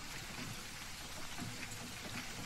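Steady rain falling on a trail, a soft continuous hiss with faint patters, no voices present.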